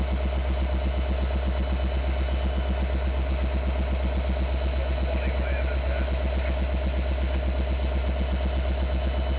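A train locomotive idles near Binghamton terminal with a steady, loud low rumble and a regular throbbing pulse that holds unchanged throughout.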